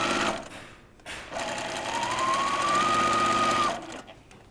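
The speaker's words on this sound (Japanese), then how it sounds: "洋服の肩口のカーブを小気味よく正確にミシン掛けをしている" A sewing machine stitches the curved shoulder seam of a dress remade from an old kimono in a dressmaking class, its steady whirring running close and loud for a couple of seconds after a brief opening burst.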